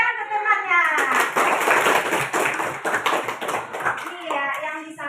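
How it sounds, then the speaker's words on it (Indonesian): Children in a classroom clap for a classmate, a brief burst of rapid clapping with a teacher's voice and kids' voices over it. "Tepuk tangan ke temannya."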